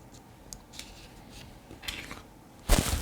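Scissors cutting heat shrink tubing, a few faint snips followed by one louder, sharp close cut at the end, with no talking during it.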